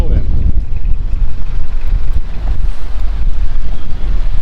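Strong wind at the seaside where surfers are out, heavy gusty wind buffeting the microphone with a loud low rumble, waves and surf faintly underneath; continuous and close throughout.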